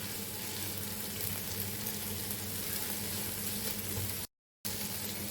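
Onions sautéing in a pan for a king fish rice dish, a steady, fairly quiet sizzle of frying that continues evenly with one very short gap of silence near the end.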